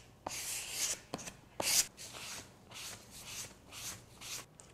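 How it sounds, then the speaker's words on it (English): Grain filler is rubbed by hand across a dyed wooden sample board in a series of soft, close scrubbing strokes, each a breathy swish with brief knocks at the start, with no talking. "I apply the pore filler to the dyed sample board"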